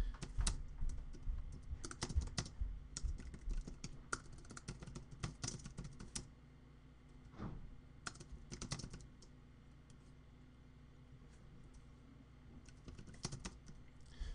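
Quiet, close computer keyboard typing at a Linux terminal, with bursts of rapid clicking keystrokes separated by short pauses and a longer lull midway.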